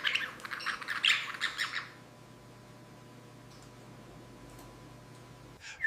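A pet parrot gives a quick run of bright, close chirps and tweets for about two seconds, then the room falls almost silent apart from a faint hum and a soft click.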